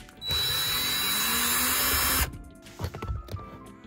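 Power tool whirs loudly and steadily for about two seconds while loosening a bolt inside a Tesla during a cabin filter replacement, then stops, followed by faint clicks and handling noises.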